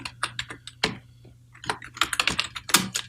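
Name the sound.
typing a restore point name on a computer keyboard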